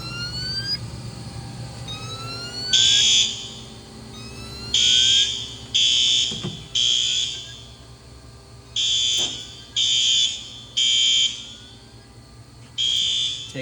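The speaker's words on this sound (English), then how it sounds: "You're going to jump those 2 together to put this into alarm, like so." A DMP Fire Command fire alarm panel sounds in alarm mode, its loud electronic tone pulsing in repeated bursts over a steady low hum, close by and without speech.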